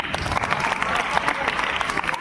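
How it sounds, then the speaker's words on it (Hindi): Applause from students and audience at a school quiz competition, a steady dense patter of many hands clapping that fills the whole stretch without a break. "जोरदार तालियां।"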